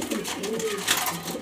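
Pigeons coo in a loft of colourful birds, a soft low rolling call close by with some broader noise around it and no talk.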